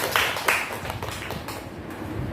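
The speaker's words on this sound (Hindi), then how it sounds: "तालियां होनी चाहिए आयमा के लिए" Schoolchildren in a classroom clap for a classmate: a dense, brisk patter of many small hands, fairly close, with a couple of louder claps near the start before settling into an even flutter.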